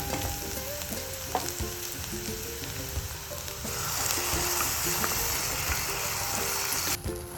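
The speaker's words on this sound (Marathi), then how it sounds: "आता ह्यामध्ये आपण जे टोमॅटो आणि काजू आलं लसूण घालून जी पेस्ट केली ती घालून घेऊया" Tomato, cashew, ginger and garlic paste frying with onions in a pan over a high flame for palak paneer, giving a steady, loud, close sizzle with stirring throughout and no talk.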